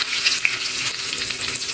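A tempering of mustard seeds, cumin, curry leaves, asafoetida, fenugreek seeds and a green chili sizzling in hot oil, a dense, bright, steady hiss close up with a few small pops.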